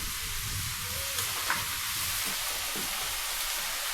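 Ivy gourd (tondli) frying in a pan with masala and salt gives a steady, close sizzle that holds evenly throughout, with a few faint stirring scrapes and no voices.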